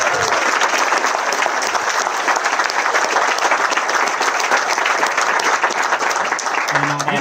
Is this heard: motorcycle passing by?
no